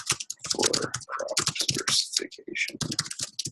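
Rapid typing on a computer keyboard, close and fairly quiet, makes a continuous patter of small clicks and key taps with no voices.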